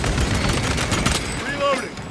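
Short burst of heavy bolter fire from Warhammer 40000: Space Marine 2, loud and close. Faint voices are heard near the end.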